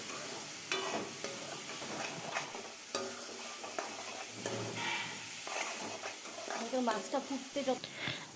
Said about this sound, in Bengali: এবার এটাকে আরেকটু ভালো মতো কষাবো।